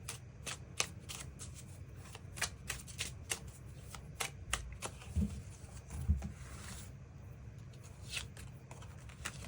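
Tarot cards shuffled by hand in a steady run of crisp riffling bursts, close and clear, with no voices over them.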